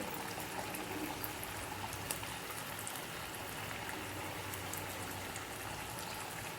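Gulab jamun dumplings made from lentils and rice deep-fry in hot oil, giving a steady, faint, even hiss and bubbling crackle throughout with no voices over it.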